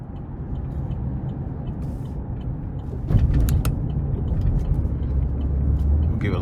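The 3.6 engine of a 2022 Chevrolet Colorado extended cab work truck hums low inside the cab, then rises to a heavier, louder drone halfway through as throttle is applied and held.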